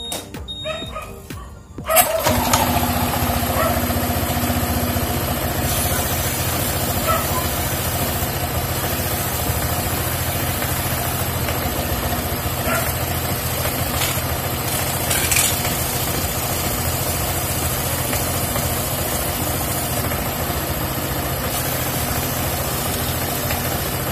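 A 2019 Honda PCX 150 scooter engine catches after a brief start-up noise and then idles steadily close by, a constant mid-pitched hum that carries on unbroken.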